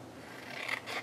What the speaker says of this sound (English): And then I'm going to take my scissors and cut out